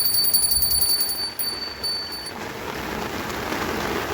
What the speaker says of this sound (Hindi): ये देखो कितनी बारिश है।